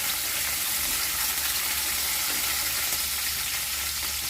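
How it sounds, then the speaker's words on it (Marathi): Crushed garlic cloves sautéing in hot oil, a dense, even sizzle holding steady throughout, close and fairly loud with no talking. "थोडं 1 मिनिटभर परतून घेऊया लसूण."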